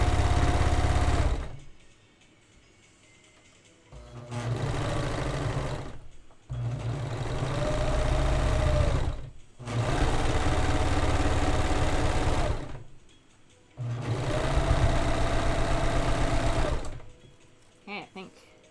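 A home sewing machine hems a petticoat for an Astrologian costume, running in several steady mechanical bursts of a few seconds each with short pauses between, close and fairly loud, with a voice talking in places.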